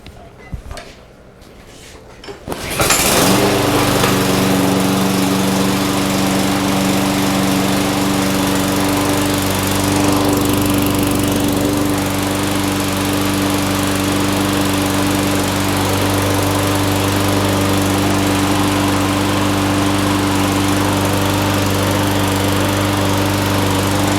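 A lawn mower with a Briggs Quantum engine is pulled and catches after a few seconds of rattling, then runs steadily at a loud, constant drone close by for the rest of the stretch, with no talk.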